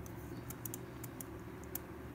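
Keys click in quick, light taps on a computer keyboard while numbers are entered during photo mat design software work, a few scattered strokes heard faintly and close over low room hum.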